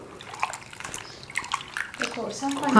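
Water sloshes and splashes in short bursts as cut potatoes are rinsed in a basin, with a faint voice in the background.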